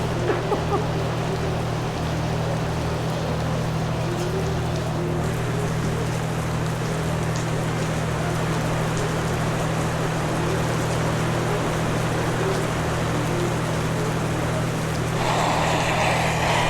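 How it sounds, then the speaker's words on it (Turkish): Evening rain in Marmaris falls as a steady, dense hiss that runs unbroken throughout, with a constant low hum beneath it and a slight rise in intensity near the end. "Yağmur kısmen şiddetini arttırmış olabilir"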